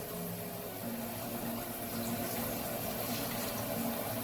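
Water poured into a pan of gravy while it is thinned out, a continuous steady splashing trickle with a faint hum underneath and no speech.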